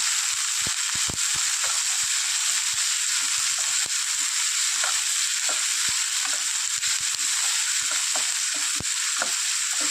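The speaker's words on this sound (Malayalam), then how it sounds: "ഇത് നന്നായിട്ടൊന്ന് ഇളക്കി യോജിപ്പിക്കുക" Onions sautéing with salt in a hot pan for a Kerala-style fish roast, a steady loud sizzle broken by irregular scraping clicks of a spoon stirring, with no voices.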